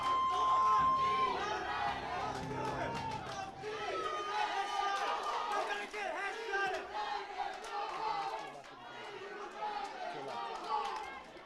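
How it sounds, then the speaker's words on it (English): A crowd at a Gears of War esports tournament in Atlantic City cheers and shouts in a continuous excited roar, heard somewhat distant beneath a commentator talking throughout. "you guys can see the crowd right now at Atlantic City is as hype as it gets"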